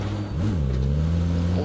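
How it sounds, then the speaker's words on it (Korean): Motorcycle engine in PUBG Battlegrounds, a steady close drone that rises briefly in pitch then settles into a sustained hum, running continuously and loud without talk. "오토바이 소리"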